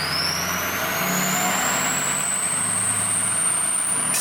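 A lifted truck revs hard and then brakes sharply, giving a loud, steady engine roar with a rising whine running through it, close by and with no talking.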